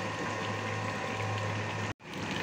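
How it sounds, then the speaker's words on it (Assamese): Fish pieces simmering in a mustard-seed fish curry gravy, giving a dense, continuous bubbling hiss close by that cuts out briefly near the end before resuming. "আৰু গোটেই মাছ কেইপিচ দিয়াৰ পিছতে অলপমান উতলিব দিম এয়া"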